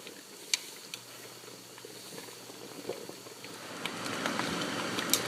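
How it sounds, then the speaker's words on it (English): Noodles for Khaub Poob boiling in a pot, a soft steady bubbling hiss with occasional small pops, growing slightly louder and busier toward the end. "So my noodles have been cooking"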